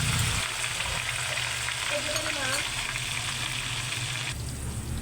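Beaten egg and eggplant, a Filipino tortang talong, sizzles steadily in a frying pan, a loud continuous crackle up close that shifts briefly as the omelette is moved or flipped.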